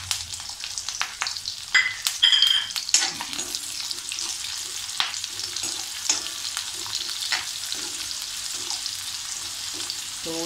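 Onion and a few curry leaves frying in hot oil for a Malvani-style tempering, with a steady sizzle broken by scrapes and clinks of a spoon stirring the pan, close and fairly quiet, no talk.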